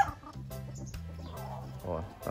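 A fighting cock clucks in short repeated bursts, close and clear, with someone talking alongside at a fighting-rooster sale.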